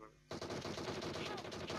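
Rapid automatic gunfire in PUBG kicks in abruptly after a quiet moment, a dense sustained burst of shots continuing to the end, loud and close.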